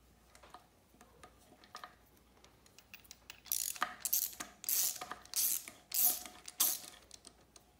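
A harmonic balancer puller is threaded into a 5.3 LS engine. Faint ticking at first gives way to louder bursts of ratcheting clicks in short, repeated strokes, close by, with no talking.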